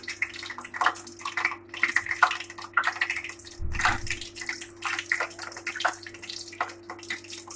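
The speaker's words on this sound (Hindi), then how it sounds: "ये देखिए सारे मैं इसमें डालती हूँ और फ्राई करती हूँ।" Potato pinwheels frying in a pan of oil give a steady, close crackling sizzle that holds throughout, with no talking.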